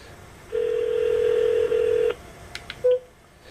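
Redial on a Bolse 12W NFC wireless Bluetooth speakerphone: a steady, loud tone lasting about a second and a half, then a few quick clicks and a short beep.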